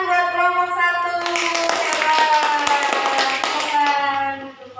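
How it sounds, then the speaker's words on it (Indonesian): A classroom group of students applauds another student group, a dense patter of many hands clapping together, fairly loud and steady for a few seconds over a sustained tonal hum, with children's voices mixed in. "tepuk tangan buat kelompok 1."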